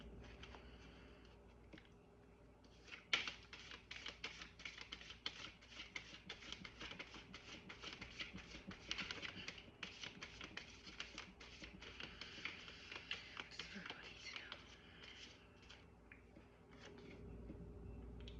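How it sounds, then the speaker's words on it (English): Tarot cards pulled and shuffled from a deck, a quiet, continuous run of soft papery taps and flicks close up with one sharper snap, heard alone. "I'm going to go ahead and start pulling cards."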